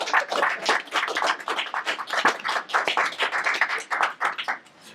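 A small group of people applauds a writer celebrating his debut book, with close, uneven hand claps pattering in a quick, irregular stream for several seconds, without talk.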